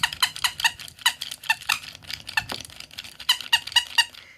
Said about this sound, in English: she's a squeaky toy.